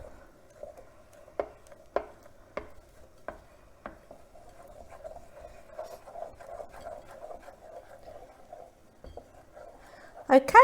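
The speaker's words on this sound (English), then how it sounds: "Last bit of cream going in. And we're going to stir." A spoon stirs a glossy chocolate and cream mixture for a chocolate and chilli gift, starting with several sharp taps against the bowl and then settling into a steady soft scraping swirl, close and fairly quiet.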